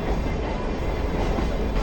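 Sagano Scenic Railway five-carriage tourist train running along its valley line near Kyoto: a steady, dense broadband rumble and rattle that stays level throughout, close and continuous, with no voices.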